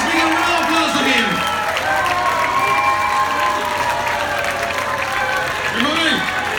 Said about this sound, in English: Let's bring a round of applause to him.